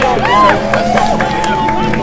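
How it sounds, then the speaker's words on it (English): A crowd at a pro-Palestinian street protest in Leeds cheers and claps, with raised voices and scattered hand claps mixed into a loud, steady roar of outdoor hubbub. "Round of applause everybody."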